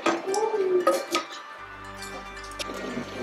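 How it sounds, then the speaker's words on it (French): Utensil scraping and clinking against a cooking pot as vegan batch-cooked food from fridge and pantry ingredients is stirred: a few close metallic knocks and scrapes, then a quieter low simmer. "Je mélange un petit coup."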